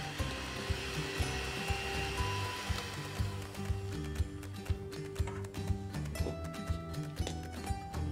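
Electric hand mixer beating almond cookie batter after vanilla extract is added, a steady whirring drone with rhythmic taps of the beaters against the bowl, close and continuous.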